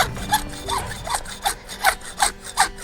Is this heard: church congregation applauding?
no